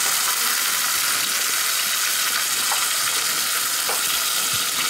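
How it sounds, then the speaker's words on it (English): Chicken pieces seared skin side down in hot oil in a pan, giving a steady, loud, continuous sizzle and crackle throughout with no talking. "We are placing it skin side down."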